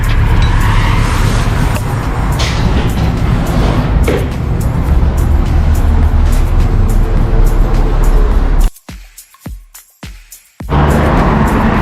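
A city bus number 94 pulling in on an Abu Dhabi street at a bus stop: loud, steady engine rumble and traffic roar for several seconds, a short gap of clicks and knocks, then the roar returns.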